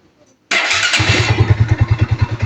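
A Kawasaki NS150 motorcycle engine, just back together after a refresh, fires up after a short quiet spell and settles into a loud, steady, pulsing idle close by.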